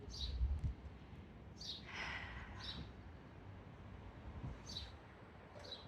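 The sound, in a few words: birds singing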